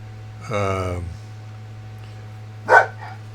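A dog named Tippy barks once, a short harmonic yelp near the start followed by a brief sharper bark a couple of seconds later, heard fairly close against a steady low hum.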